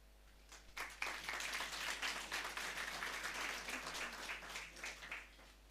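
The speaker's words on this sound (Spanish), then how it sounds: "vamos a dar fuertes aplausos al coro Nueva Alegría" A church congregation at a Sunday service breaks into applause for the choir, a dense wash of many hands clapping that swells and holds steadily for several seconds.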